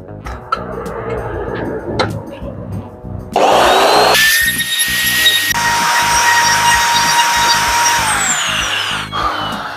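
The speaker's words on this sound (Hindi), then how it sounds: "मेरे पास फ्रीजिंग मशीन है, मैं फ्रीजिंग मशीन के साथ इसको" Milling machine cutting into an aluminium door profile to make room for a lock: a loud, steady mechanical whine and grinding, with harsh high-pitched cutting and a clear change in tone partway through, close by with no talk.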